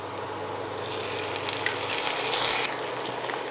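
Ginger-garlic paste and green chili paste sizzle steadily in a pan of frying onions, a soft continuous hiss with no talking.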